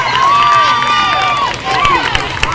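Spectators at a softball game cheer and shout loudly, with high excited yells and whoops rising over the crowd noise and a few claps near the end.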